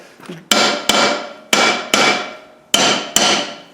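A hammer taps steel brake shoes on a Land Rover LT230 transfer box in a workshop, six sharp, ringing knocks in three close pairs, loud and clear with no talk.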